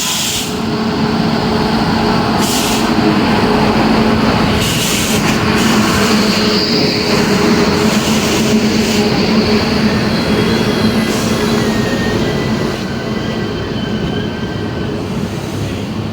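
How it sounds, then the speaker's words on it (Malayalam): A Sabari Express on LHB coaches, hauled by a Pune-shed WP7 locomotive, pulls into Thrissur station with a steady loud rumble and rolling clatter of wagons, faint wheel squeal and hiss mixed in, continuing evenly throughout. "അങ്ങനത്തെ നമ്മുടെ ശബരി എക്സ്പ്രസ് വന്നുകൊണ്ടിരിക്കുകയാണ് കേട്ടോ."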